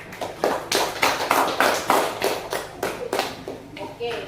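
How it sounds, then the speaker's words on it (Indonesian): A small classroom group claps for classmates in a rhythmic, fairly even series of about a dozen distinct hand claps, close and moderately loud, with children's voices mixed in. "tepuk tangan buat kelompok 1."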